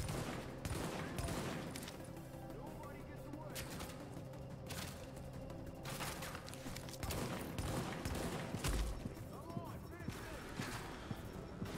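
An enemy engineer fires on the player in The Division, loud bursts of automatic gunfire and single shots cracking at irregular intervals alongside other combat noise, with someone talking over parts of it.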